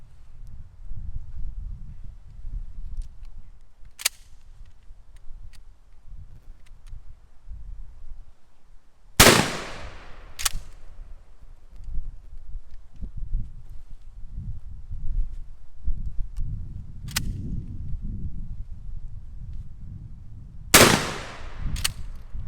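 A 12 gauge shotgun firing cut shells outdoors: about four sharp, loud reports spaced several seconds apart, with a steady low rumble of wind or background noise between the shots.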